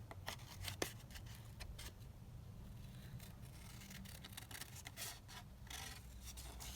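Scissors cut out small paper labels for a craft kit, making a close, quiet run of snipping and rustling with a few crisp snips and no speech.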